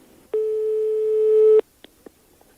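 A telephone busy tone follows a hung-up call: one long, loud, steady electronic tone lasting over a second, then a few faint clicks.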